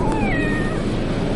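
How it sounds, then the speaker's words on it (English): A cat meows over a dense, steady background noise, giving a drawn-out, wavering call near the start that sounds fairly close. "Cat out of the way."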